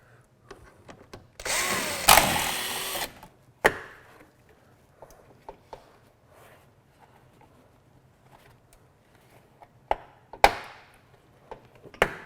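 A power tool buzzes in a loud sustained burst of about a second and a half, then a few sharp short bursts follow as bolts come out of a car's inner fender. Quiet handling clatter fills the gaps, with no talking.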